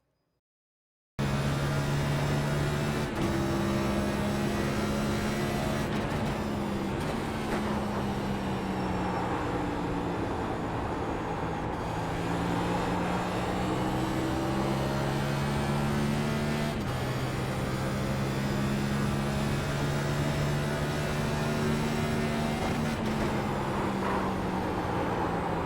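A race car laps Gateway in iRacing, the engine droning loud and steady with periodic pitch rises and drops through gear changes and corners, continuous after a brief silent start.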